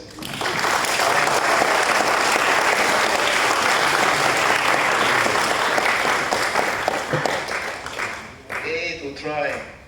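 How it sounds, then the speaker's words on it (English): Loud applause from a lecture-hall audience fills nearly the whole stretch, steady dense clapping that thins out near the end as a voice begins speaking over it. "Let's give him a loud applause."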